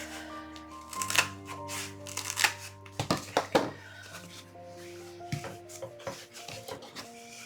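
Handling and cutting a foam pool noodle for a scarecrow wreath craft, with squeaky rubbing, crinkling and scraping up close, irregular bursts of friction over a low steady hum, no talking.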